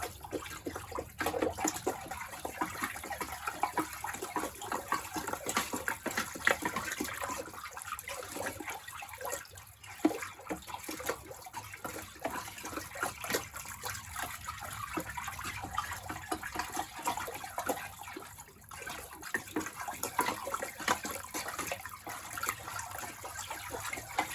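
Alkaline pottery glaze being stirred in a bucket, a continuous wet sloshing and swishing of liquid, close and fairly quiet, lasting throughout with small irregular splashes.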